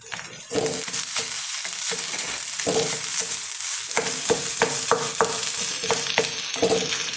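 Rice ball curry ingredients, a cooked thoran mixed in, stirred in a frying pan, with a steady sizzle under repeated scraping strokes of the spoon in an irregular rhythm, close and fairly loud, no talking.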